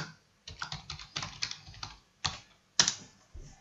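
Keys pressed on a computer keyboard to enter a shortcut while coding in Visual Studio, a close burst of quick clicks followed by a few separate, sharper single presses, with no speech.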